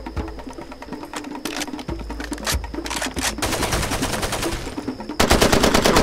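Far Cry 2 gunfire: rapid automatic bursts crackling in quick succession, separated by short pauses, swelling into a louder, continuous stream of shots at the end.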